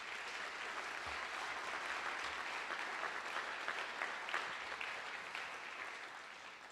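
A livestreamed program audience applauds its sponsors in steady, sustained clapping from many hands, fairly faint and distant, continuing evenly throughout.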